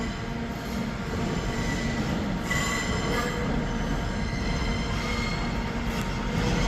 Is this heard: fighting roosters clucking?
no